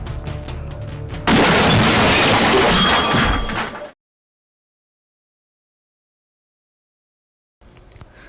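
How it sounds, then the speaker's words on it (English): Two monorails collide in a sudden loud crash, a harsh burst of impact noise lasting a few seconds before abrupt silence, with faint sound returning at the end. "The two monorails hit each other at exactly 4 p.m."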